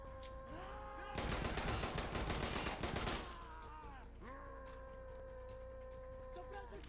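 Rapid automatic gunfire bursts loudly for about two seconds in the tactical shooter video game Insurgency Sandstorm, set against a quieter background of steady tones before and after.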